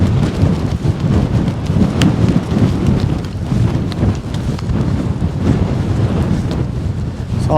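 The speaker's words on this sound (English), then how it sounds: "It's a bit windy." Strong wind batters an open hillside in the Cheviot Hills, Northumberland, roaring loud and steady right against the microphone in heavy continuous gusts with no voices.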